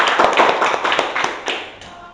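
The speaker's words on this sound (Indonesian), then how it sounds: "Kita beri aplaus, tepuk tangan dulu anak-anak ya" A small group of schoolchildren clapping in uneven rhythm in a classroom, close by, bursts of hand claps that taper off after about two seconds.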